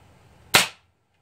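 A Crosman Fire NP air rifle fires a single shot: one sharp, close crack that decays quickly into silence.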